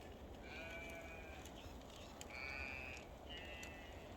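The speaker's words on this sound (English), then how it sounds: "The sheep have eaten, but you can hear them." Sheep bleat on a farm, several distant wavering cries over steady wind or background noise, with crows cawing among them.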